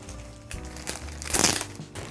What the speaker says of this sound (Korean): 이 비닐 커버 뜯어 볼게요